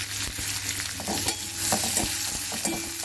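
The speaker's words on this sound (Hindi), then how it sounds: "प्याज को गोल्डन ब्राउन होने तक हम लोग भून लेंगे।" Onions and green chillies fry in a pan over a medium flame while being stirred, giving a steady close sizzle with scattered crackles and the scrape of a spoon, with no talking.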